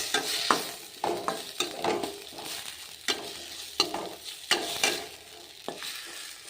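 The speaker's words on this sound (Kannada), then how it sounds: "ಒಂದು ಟೊಮೆಟೊ ಇದಕ್ಕೆ ಹಾಕೋಣ" Tomato goes into a frying pan with green chillies for a fenugreek dal and is stirred, giving a soft sizzle beneath repeated close scrapes and taps of the spoon against the pan.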